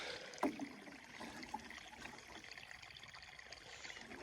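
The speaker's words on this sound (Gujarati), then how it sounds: "થોડુંક નારિયેળીને એને પાણીને પાઈ દઈએ આપણે" Water poured by hand from a filled container onto the base of a coconut tree outdoors, a soft steady trickle and splash running throughout, with a brief sharper splash near the start and light background noise.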